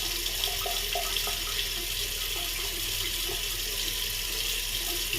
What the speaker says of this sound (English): Just wet my fingers in and wet the face.